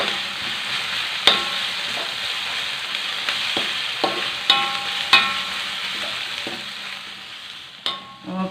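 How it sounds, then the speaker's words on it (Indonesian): Shallots sauté in a pan with a steady, bright sizzle, broken by several sharp scrapes and taps of a spatula stirring them, close up with no talking. "Tumis sampai aromanya naik sahabatku ya."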